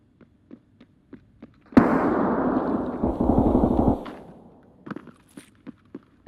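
In Escape From Tarkov, a sustained burst of rapid gunfire rumbles for a couple of seconds amid soft, scattered footsteps before and after.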